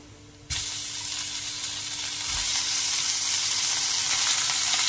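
Ginger and beef hit hot oil in a pan with a sudden loud sizzle that holds steady and grows slightly stronger, a broad close hiss with no voices.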